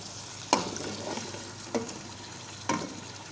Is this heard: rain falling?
no